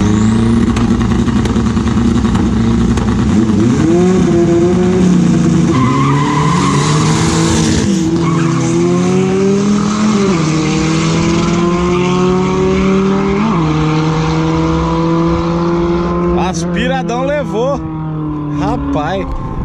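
Fiat 147 race cars, one turbocharged and one naturally aspirated, racing on a track in Arthur Nogueira, with loud revving engines rising and falling through gear changes and tire squeal, under excited commentary.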